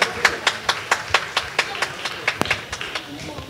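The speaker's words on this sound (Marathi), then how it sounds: "तर जोरदार टाळ्या परत वाजवूया आपण सगळे." Spectators at a cultural celebration clap for a girls' dance performance in a slow, steady rhythm of distinct individual claps, fairly close, with faint voices beneath.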